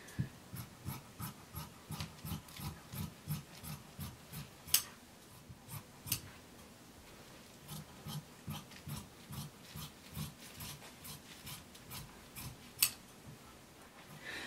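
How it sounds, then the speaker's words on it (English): Scissors cut around a paper pattern on fabric in steady, rhythmic snips, a long run of soft close crunches with a few sharper clicks, quiet and with no talking. "I'm going to cut around these lines."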